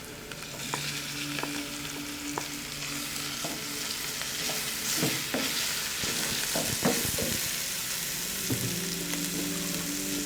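Shredded chicken that was boiled in yogurt is stirred into softened onions in a hot pan, with a steady close sizzle and frying hiss and occasional scraping and clinking of a spoon against the pan.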